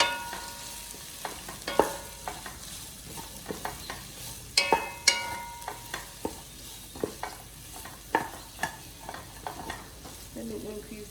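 Carrots, green and red bell peppers and spring onions stir-frying with chilies in a pan for crispy chilli beef, a soft low sizzle broken by scattered clicks and scrapes of a utensil against the pan.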